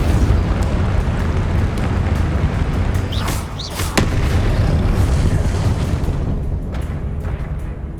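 Confringo explosion spell blasts in Hogwarts Legacy on PS5: a dense, loud rumbling roar of bursts and booms, with a couple of sharp cracks in the middle before the noise tapers slightly.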